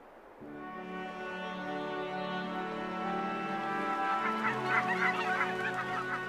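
A wintering flock of whooper swans resting in northern Germany gives loud, overlapping trumpeting honks that build into a dense chorus of many birds calling together.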